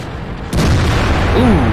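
A heavy impact as one tank rams another in a World War II tank video game, a sudden loud boom-like crunch followed by a sustained low rumble with a brief rising whine near the end.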